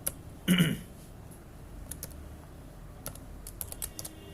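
Keys tapped on a computer keyboard while Python code is typed, a short burst of louder clacks early on followed by sparse, faint, irregular clicks in a quiet room.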